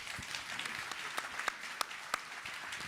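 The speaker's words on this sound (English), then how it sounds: "a big round of applause for our panelists." Sharp individual claps stand out of a steady, fairly soft roar as an audience at a global financial leaders' investment summit applauds its panelists, with no talking over it.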